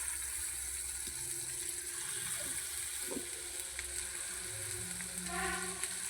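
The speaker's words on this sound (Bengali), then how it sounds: "এবার আমি মাংসগুলো সব ভেজে নেব" Chicken pieces fry in hot oil, giving a steady, fairly faint sizzle with a soft watery hiss and a few small pops and clatters throughout.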